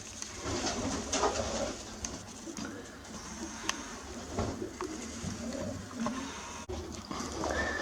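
Long-distance racing pigeons coo softly and repeatedly amid a busy, rustling background, with occasional sharp clicks and wing flutters.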